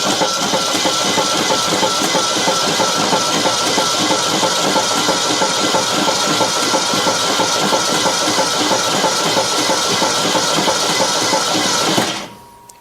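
Seized Ford 289 V8 in a 1964 Ford Custom 500 being turned over, a loud, steady mechanical churning and hiss that runs for about twelve seconds before stopping abruptly.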